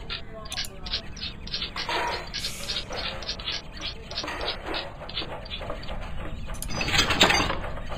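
A Tiger Moth air intake being fitted in Plane Mechanic Simulator, heard as steady mechanical clicks, ratcheting and small metallic knocks. They continue throughout at moderate level, with faint background noise.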